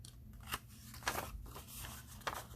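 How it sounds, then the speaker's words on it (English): Scissors snip through the cardboard ends of a cake mix box being made into a journal, three crisp separate cuts close by with paper rustle between them. "we'll trim our little ends here on an angle"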